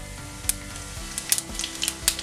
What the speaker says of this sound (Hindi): घी गर्म हो गया है, इसमें सौंफ का तड़का डाल देते हैं.